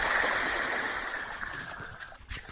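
A bike rolls through shallow water on Caye Caulker's north side in Belize, giving a continuous close splashing wash that tapers off near the end.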